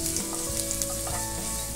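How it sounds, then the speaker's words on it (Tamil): Garlic and dried red chillies fry in hot oil, a close, steady sizzle with small crackles throughout and no talking. "இப்போது இது நல்லா கொஞ்சம் ஃப்ரை ஆகிடுச்சு"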